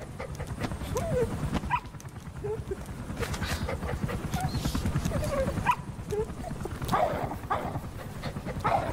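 A dog in the video game Metal Gear Solid V pants and whimpers with short yips, close and fairly quiet, repeating across the span under a steady rhythmic background, with a player speaking.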